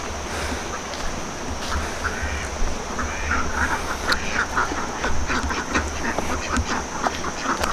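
Ducks quacking behind a rural Lao village home, a steady chorus of calls mixed with wind and outdoor noise, moderately loud throughout.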